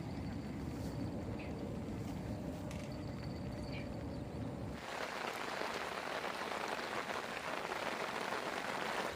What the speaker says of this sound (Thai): ตอนนี้ฝนก็ยังไม่หยุดนะครับ ฝนก็จะตกมาไปปล่อยเรื่อยๆครับผม